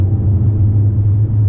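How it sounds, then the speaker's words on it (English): A 2018 Jaguar E-PACE P250 idles with a steady, close low rumble that holds an even drone throughout the short stretch, with no revving and no voices. "if you'd like to hear the engine,"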